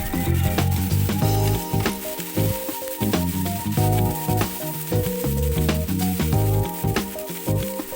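Spices sautéed in a pan as fried fish is added, a steady, close sizzle with stirring and scraping clatter throughout and no talking.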